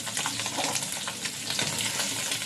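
Koi fish fry in hot oil with a dense, close, continuous sizzle and crackle that holds steady throughout, with no talk.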